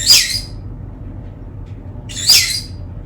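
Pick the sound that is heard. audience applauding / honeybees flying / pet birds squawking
pet birds squawking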